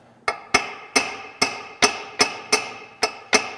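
A small hammer tapping an NV4500 transmission tail housing off its dowel pins, nine sharp metallic taps in a steady rhythm, close and clear with nothing else behind them.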